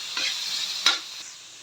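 Pork fat sautéing in a pan for laing gives a steady close sizzle with a few stirring scrapes, one sharper clack near the middle, and no voices.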